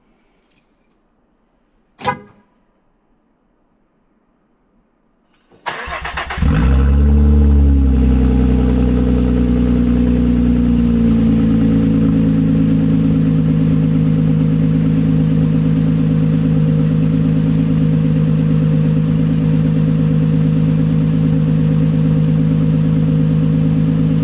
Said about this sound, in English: you start without a muffler on it